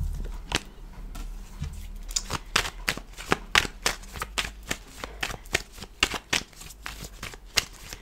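Crisp, repeated snaps and riffles of tarot cards being shuffled and handled close by, irregular quick bursts throughout with no talking.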